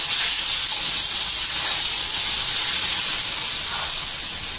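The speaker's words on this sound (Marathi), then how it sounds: "गॅस फुल ठेवायचा, चांगलं शिजवायचं।" Gas stove burner on full flame while sabudana khichdi cooks, a steady, close, even hiss of roaring gas and steam running unbroken for the whole stretch with no voices.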